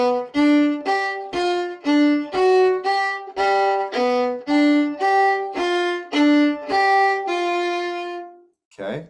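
Bluegrass fiddle plays the phrases of a tune as a teaching demonstration, a run of bowed notes in steady rhythm, close and clear, ending on a long held note with a brief bow stroke after.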